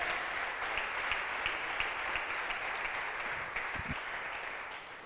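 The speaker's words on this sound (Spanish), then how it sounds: "Dale una ofrenda de palmas al Rey de Reyes." A church congregation gives a sustained round of applause during a preaching service, a dense steady patter of many hands clapping at once that holds for several seconds without pause.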